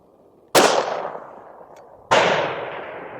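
Two loud gunshots of 147 grain reloaded ammunition fired over a chronograph outdoors, each a sharp crack followed by a long echoing decay, about one and a half seconds apart.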